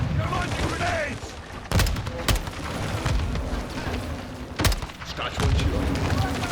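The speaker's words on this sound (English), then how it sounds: "Take cover! They're launching grenades!" Repeated grenade blasts and bursts of gunfire in a Modern Warfare 2 (2022) firefight, with sharp loud booms cutting through a constant rumble of battle while soldiers shout over the combat.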